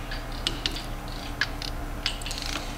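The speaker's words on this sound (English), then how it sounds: "And now tighten the locking, the adjuster locking bolt." Ratchet wrench tightening the adjuster locking bolt on a RAM 2500 front axle, with several sharp metallic clicks spaced irregularly over a low mechanical background; no voices.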